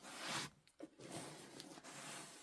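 A fabric zipper being pulled along a pillow cover, giving a close rasping run, a brief pause with a couple of small ticks, then a second longer zip stroke, heard alone.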